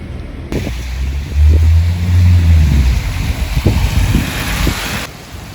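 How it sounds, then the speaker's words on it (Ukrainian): Thunderstorm with rain during a stop in Mostar, Bosnia: a deep, long rumble of thunder swells over a steady wash of rain and wind noise, with faint intermittent knocks. "Потрапили на грозу"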